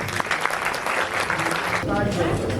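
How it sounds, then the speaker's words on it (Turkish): A crowd claps steadily for a couple of seconds, then a voice starts speaking as the applause fades. "Esra Hanım'a özel bir alkış rica ediyorum"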